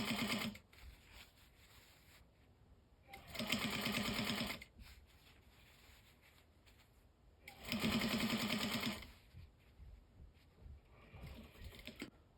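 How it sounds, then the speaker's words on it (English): Two short bursts of a sewing machine hemming a pair of pants with the work rolled in front of the presser foot, each a few seconds of close, even motor whir separated by quiet pauses. "so you just sew a little bit and then roll it to bring more of the work in front of the presser foot"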